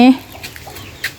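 A short burst of chicken clucking in a farm pen, close and fairly loud at first, then fading into quieter chatter.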